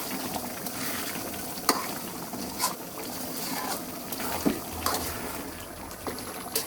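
Beef bhuna made with home-style spices cooks slowly over a low flame, giving a steady soft sizzle broken by occasional sharp spoon clicks and scrapes from close by.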